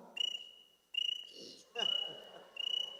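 Crickets chirping at night: four close, bright trilling bursts in a steady repeating pattern, each a quick pulsed chirp, with faint murmuring sounds in the quieter gaps between.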